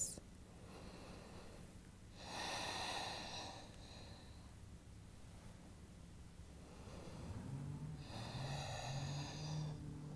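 Slow breathing while holding a yoga stretch for golfers: two long, soft breaths drawn in and let out, faint and close, with a quiet hiss and rustle between them and no talking.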